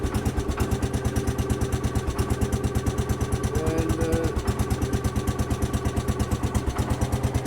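An old Ford or Massey Ferguson garden tractor engine runs steadily after starting, a close, loud, rhythmic chugging idle that keeps an even pulse throughout.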